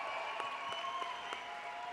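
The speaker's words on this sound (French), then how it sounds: "Swan Périssé, qu'on peut applaudir encore." An audience applauding Swan Périssé at a festival comedy show, steady, moderate clapping held at an even level throughout, with no voices over it.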